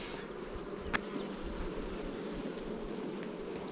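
Healthy honey bees humming steadily around an open beehive frame during a mite inspection, a dense continuous close-up drone with a brief faint click partway through.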